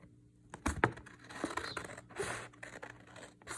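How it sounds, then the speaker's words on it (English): Scissors cut paper strips for an Easter basket craft, giving a few faint, close snips and rustles against quiet background noise. "I'm just gonna cut 5 strips here"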